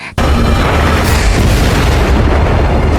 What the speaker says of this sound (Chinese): 然而，爆炸对山羊鬼并无大碍